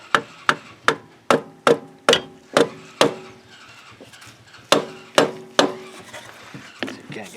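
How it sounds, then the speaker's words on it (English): Hammer blows pound a screwdriver through an oil filter during maintenance on a GM 6.5 Detroit diesel plow truck, about a dozen sharp metallic whacks in a steady rhythm, a brief pause midway, then a few more, loud and close. "Pound a screwdriver through it."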